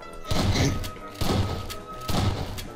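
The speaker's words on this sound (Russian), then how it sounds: "Я слышу выстрелы" Gunfire in the video game Garry's Mod comes as three heavy, booming shots spaced about a second apart, each a loud thudding burst that rings out briefly, with no talking.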